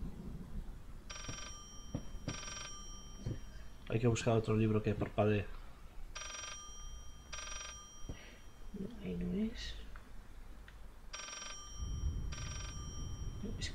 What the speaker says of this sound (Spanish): Ahora suena en otro teléfono.